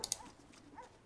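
Dogs in the video game Divinity Original Sin 2 give a couple of quick, faint whimpers and yips at the start, followed by soft, low ambient game sound.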